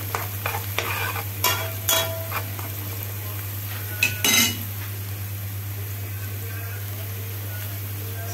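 An Egyptian ijja, an egg omelette with peppers and cumin, fries in a pan under a steady close sizzle, with a few early scrapes and clinks of a utensil stirring against the metal.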